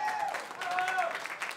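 An audience at a live blues-rock concert in Sacile, Italy, applauds in a steady wash of clapping, with crowd voices mixed in.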